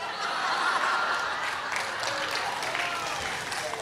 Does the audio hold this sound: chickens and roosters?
no